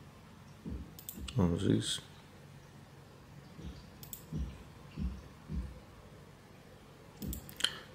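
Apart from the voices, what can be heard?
mouse clicks on a betting website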